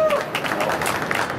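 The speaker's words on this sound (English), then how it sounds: "let's give them a round of applause and welcome them to the stage" Conference audience applause welcoming speakers to the stage for a drone talk, a brief wash of many hands clapping at once, steady and fairly loud in a large room, with no talking.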